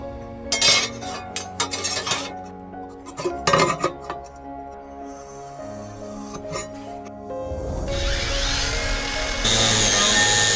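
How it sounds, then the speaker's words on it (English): Sharp metallic clanks and scrapes come in bursts, then a power tool whines into a steady grinding cut through iron pieces. "right now I gotta cut the iron pieces real quick"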